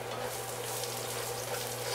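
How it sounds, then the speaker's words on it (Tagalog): Garlic sautéing in a little oil in a pan, a steady close sizzle and crackle with no talk. "Then, magigisa tayo ng garlic."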